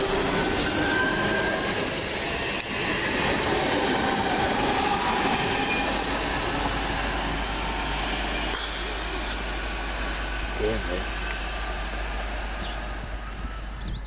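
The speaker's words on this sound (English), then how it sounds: "And now leaving with the 10:42 London Midland service from Redditch to Lichfield Trent Valley is 323280." A London Midland Class 323 electric multiple unit, 323280, pulls out of Longbridge station on a Redditch to Lichfield Trent Valley service, a steady rumble and hum of motors and wheels on rail, continuous and fairly close, with faint squeals.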